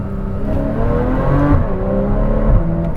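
Porsche 981 Cayman S fitted with F1 headers accelerating hard in sport mode, its engine note climbing loudly through a pull with a brief dip at a quick gear change, heard up close from inside the car.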